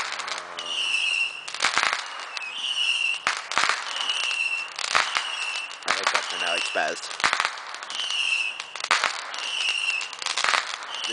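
Fireworks crack and burst again and again across the whole stretch, sharp and close, with high whistling tones between the bangs and people talking over them.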